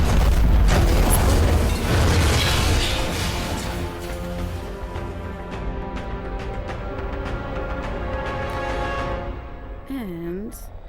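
A grenade goes off in the VR game Half-Life: Alyx, a loud booming blast at the start that rumbles and fades over several seconds, followed by ringing tonal game sounds.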